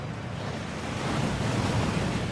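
Steady rushing water from a waterfall in the Hogwarts Legacy video game, a dense broadband roar that swells slightly louder midway, heard alone without talk.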